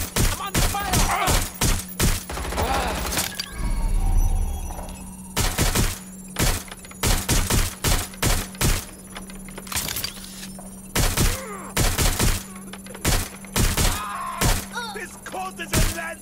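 Gunfire in the video game Watch Dogs: Legion: loud, rapid volleys of shots in quick bursts with heavy thuds, nearly continuous, with voices briefly mixed in.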